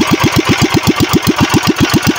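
A Tanabe 16 HP engine runs with a loud, fast, regular chugging beat, about six firing pulses a second, steady and close throughout.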